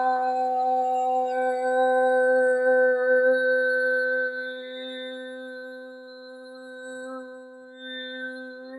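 Overtone singing held on an open ah vowel: one sustained low drone with a bright, whistling harmonic ringing above it and shifting subtly, loud and close, alone without talk.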